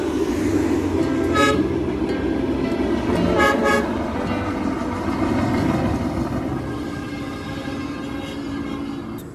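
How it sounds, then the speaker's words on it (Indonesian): A train travelling from Pariaman toward Padang rumbles past near a new toll road, sounding a few short horn toots early on over a loud, continuous rolling roar that gradually fades. "ini ada kereta api dari arah"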